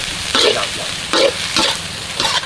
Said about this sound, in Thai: ทำการผัดเครื่องก่อน ยังไม่ต้องปรุงรส